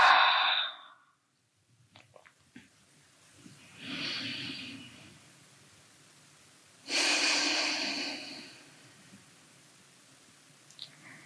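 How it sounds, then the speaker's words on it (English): Slow, deep breaths during a restorative Pilates stretch, each long airy inhale or exhale rising and then fading, spaced several seconds apart with quiet gaps between, close to the mic and alone. "Inhale. And exhale. Let that tension go."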